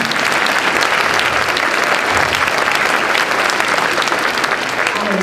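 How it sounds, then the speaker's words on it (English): Applause from an audience in a room at a civic gathering honoring a late law school supporter, a dense steady roar of many hands clapping loud and close, continuous with no talk over it. "You can clap."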